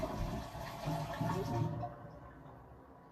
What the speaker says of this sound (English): flush the toilet just to verify that this is connected to it